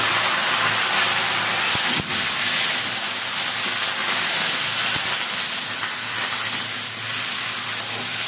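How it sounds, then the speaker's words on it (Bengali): Green chilies and chopped onion tossed into eggs frying in a pan, giving a steady, close, continuous sizzle and hiss throughout with no talking. "3-4টা কাঁচামরিচ আর পেঁয়াজ কুচিগুলো ডিমের ভিতরে দিয়ে দিচ্ছি।"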